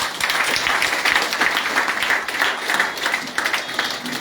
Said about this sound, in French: Applaudissez-vous vous-même.